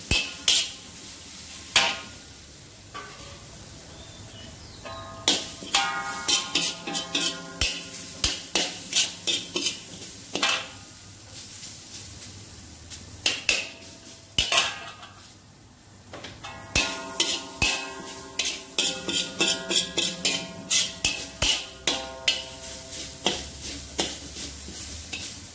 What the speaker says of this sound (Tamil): லேசாக வறுத்துக்குவோம்.